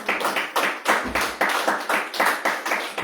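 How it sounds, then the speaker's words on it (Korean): Several people clapping together in a small gathering, a close, steady rhythm of sharp claps running the whole way through. "박수"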